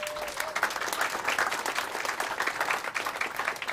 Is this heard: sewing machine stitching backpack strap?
no